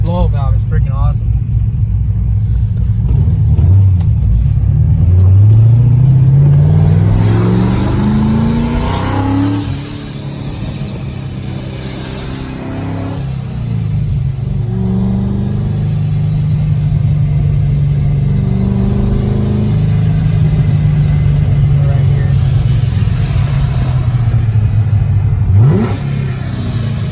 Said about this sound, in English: Wait till you guys hear that blow-off valve, man.